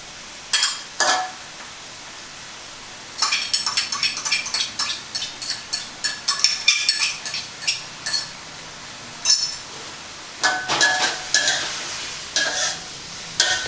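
Chinese kale and canned fish being stir-fried in a pan, with close, clattering scrapes and stirring strokes coming in uneven bursts over a faint sizzle, separated by short pauses.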